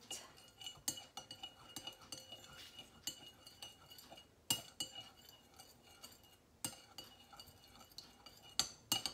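A spoon stirs a marinated vegetable salad in a bowl, making soft, scattered clinks and scrapes against the dish, quiet and irregular with no talking.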